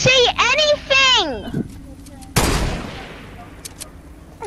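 A single sharp gunshot in a multiplayer video game that rings out and decays, following a short stretch of speech-like voiced sounds and then quieter background game noise.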